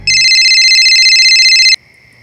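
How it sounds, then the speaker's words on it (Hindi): A single bright electronic phone ring sounds loudly for about two seconds, then cuts off, leaving a faint lingering tone. "उस रात अनुज का फिर फोन आया।"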